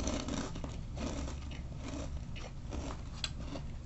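Close crunching bites and chewing of a crispy, heavily coated spiral Korean pasta snack, steady and faint over a soft background hum, with no talk.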